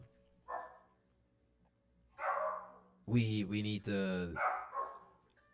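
A dog barks indoors in a couple of loud, close bursts with yelping tones, interspersed with a person talking.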